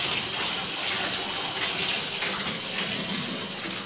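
Water runs steadily from a bathtub tap indoors, a continuous hissing gush at moderate, even volume from start to finish.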